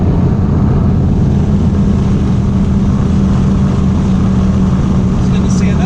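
A 2001 Audi B5 S4 with Tial 770 turbos pulls hard in fourth gear, a loud, continuous droning engine roar heard from inside the car, with no break through the whole run.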